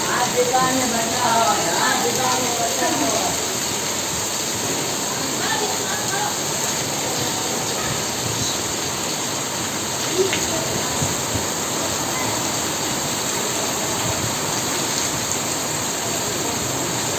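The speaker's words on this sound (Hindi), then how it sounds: "बिल्कुल ठंडा बारिश है" Steady cold rain hisses continuously throughout at a madrasa, a dense even wash of falling water with occasional faint louder drops and no talking.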